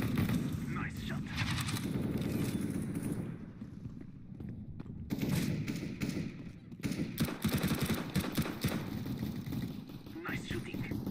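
Sustained automatic gunfire in the video game CS:GO, a dense rattling volley that briefly drops off midway then resumes, with players' voices talking over it.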